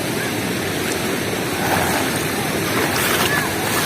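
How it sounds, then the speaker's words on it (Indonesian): Ocean surf breaks and rushes along the shore at Krui beach in Lampung, Indonesia, a loud continuous roar that swells midway, with wind across the open coast. "Ini ombaknya sudah mulai agak tinggi."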